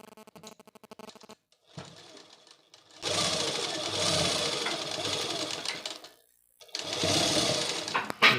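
Sewing machine stitching a fall onto a saree in quick rapid bursts, a close buzzing mechanical whir that starts and stops several times with short pauses between runs.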